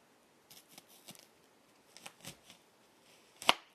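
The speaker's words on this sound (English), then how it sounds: "Then, cut onion in half." A knife cuts an onion on a kitchen counter: a string of soft, scattered slicing taps and scrapes, ending in one sharp, loud chop near the end, close and without talk.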